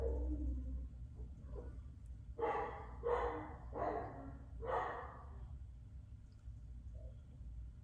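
Several dogs barking in a burst, about five loud barks in quick succession, preceded by faint snuffling and followed by quiet.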